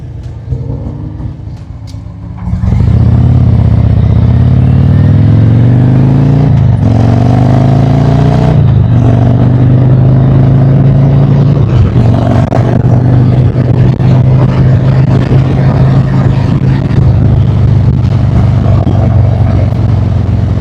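A Harley motorcycle engine runs on a dyno with a sport tune, jumping from a quiet idle into a loud, sustained roar. It is revved in several rising surges, then held at a steady high drone.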